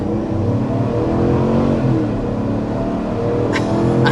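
A 2025 Chevy Tahoe LS engine accelerates, a loud, steady low-pitched rumble rising slightly in pitch as it pulls, heard continuously from inside the vehicle with no talking.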